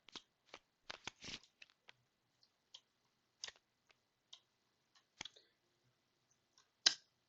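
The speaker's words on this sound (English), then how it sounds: "We're gonna shuffle our bottom 5." Cards being shuffled during a Smash Up card game: sparse, quiet clicks and short riffling flicks at an uneven pace, with one cluster of quick taps and a sharper snap at the end, with no voices.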